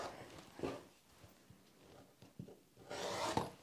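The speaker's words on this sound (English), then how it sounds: "I'm just taking my rotary trimmer and I'm just kind of cutting around the edge here" A rotary trimmer cuts fabric around the edge of a board while finishing a cross stitch piece, giving soft, close rasping and rubbing strokes in several short bursts with quiet pauses between.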